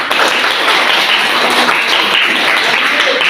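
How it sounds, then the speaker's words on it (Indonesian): Steady applause from a classroom of students fills the whole stretch, a dense wash of many hands clapping close by, with no pauses. "Coba sekali lagi tepuk tangan, kasih aplaus untuk teman kelompok yang lain."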